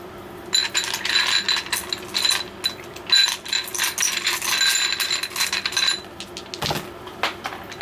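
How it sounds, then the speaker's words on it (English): Dice are rolled onto tarot cards, a dense run of light plastic clicks and rattles tumbling for several seconds, then a couple of final knocks after a short pause. "Let's roll the dice."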